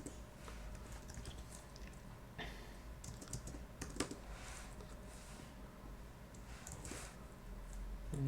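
Someone types code on a computer keyboard, a steady run of light, quick key clicks with occasional louder strokes. The typing is fairly quiet and close, with a soft background hum and no talking.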